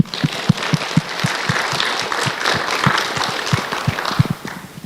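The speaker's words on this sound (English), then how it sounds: "So please give them a warm round of applause." A modest crowd applauding, individual claps distinct and irregular, moderately close, with a sparse, scattered rhythm.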